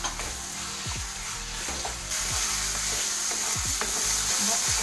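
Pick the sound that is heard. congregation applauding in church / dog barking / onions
onions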